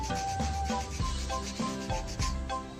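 A brush scrubs steadily back and forth across a rusty motorcycle exhaust coated in a cola and paste mixture, making a close, continuous gritty rubbing.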